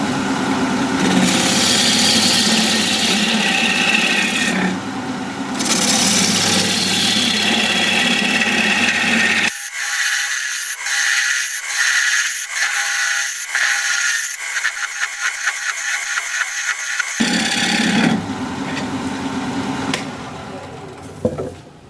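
A wood lathe spins a piece of apricot wood while a scraping tool works down it, held with center support. A steady, loud machine drone with a high rattling scrape dominates, thinning to a sharper, brighter chatter midway before the fuller roar returns.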